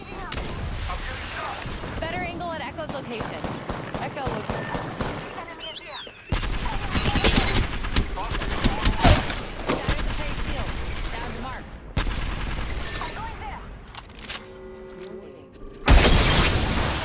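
Heavy gunfire in an Apex Legends battle royale match: dense bursts and volleys of shots fill the clip, loud and close, with sharp cracks and booms that pause briefly between fights before resuming.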